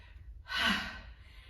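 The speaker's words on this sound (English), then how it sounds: "heavy breathing." A single heavy gasping breath after a sprint interval during bodyweight exercise, rising sharply then easing off, close and fairly quiet with no talking.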